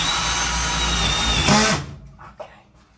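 Compact Milwaukee M12 Fuel brushless drill running at a steady high whine close by, during boiler and water heater work, then stopping abruptly and followed by a faint clunk.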